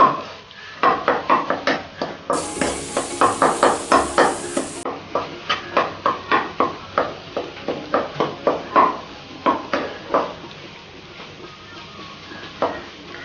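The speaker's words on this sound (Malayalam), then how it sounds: "നന്നായിട്ടൊന്ന് ഇളക്കി കൊടുക്കാം." Beaten eggs seasoned with salt and masala are whisked briskly in a bowl, producing a steady, fast run of close clinks and scrapes that continues for the whole stretch.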